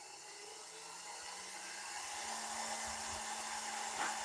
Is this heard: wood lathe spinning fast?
yes